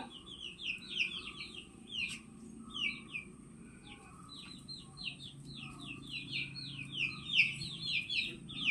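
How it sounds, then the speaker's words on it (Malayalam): A mother hen clucks low and steadily while many high, thin chirps and peeps repeat close by, with no talking. "അമ്മ കോഴി"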